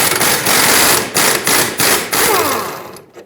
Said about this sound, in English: Remove this mounting nut.